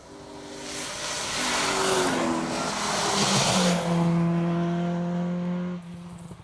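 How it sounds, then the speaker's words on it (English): Rally cars on an asphalt stage of Rally Ceredigion, an Escort chasing a Suzuki Swift, roar in from afar and build to a loud sustained engine note with shifting pitch as they pass, then fade. "we've got a couple of cars on the stage about to come into your view in this glorious part"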